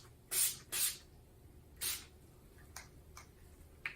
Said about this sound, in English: first I'm gonna go in with my Skin to Navia Makeup Finishing Spray